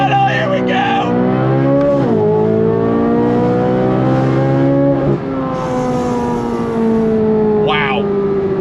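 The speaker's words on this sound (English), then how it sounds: "It is that exotic supercar sound." A Chevrolet C8 Corvette Z06 supercar engine roars loudly under hard acceleration, its pitch climbing through several quick upshifts with brief dips between gears, sustained and close throughout.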